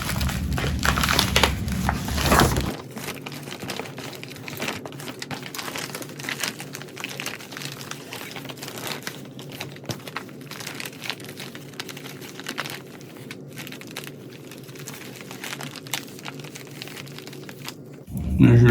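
An old plastic feed bag crinkles and crackles as its edge is rolled over, a close, busy run of crumpling that continues with brief pauses and a louder rustle at the end.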